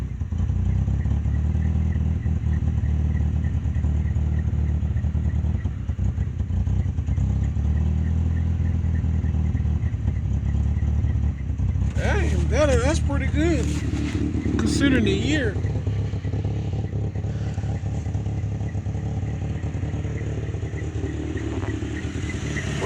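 1994 Dodge Ram pickup with about ninety thousand original miles running after six months without starting, its engine idling steadily up close with a burst of revving midway, while someone talks over it.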